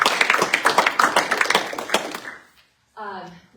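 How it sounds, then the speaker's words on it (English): Clapping from a group at a graduation, brisk and fairly close, dies away after a couple of seconds, followed by a short pause and then someone talking. "let's give them one more round of applause"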